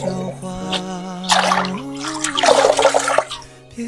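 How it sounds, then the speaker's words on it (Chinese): Dandelion leaves get washed by hand in water: splashing, sloshing and dripping rise in close bursts over a steady tonal hum, with a brief voice in the background. "先把叶子洗一洗去"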